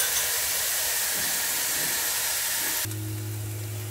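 Ginger, garlic and onion sizzle in a hot pan with a steady, loud hiss that cuts off abruptly near the end, leaving a low hum.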